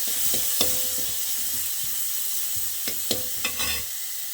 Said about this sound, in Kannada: ಎಣ್ಣೆ ಕಾದಿದೆ ಈರುಳ್ಳಿ ಹಾಕಿ ಒಂದು ಎರಡು ನಿಮಿಷ ಫ್ರೈ ಮಾಡಬೇಕಿದೆ